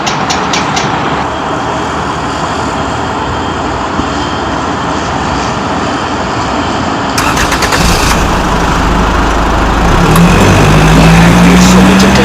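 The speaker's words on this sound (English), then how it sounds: "Just drive by the Ganga, will you, Sitaram?" A car drives along a riverside road by the Ganga, its engine a steady, close rumble throughout with no talk, growing a little louder near the end.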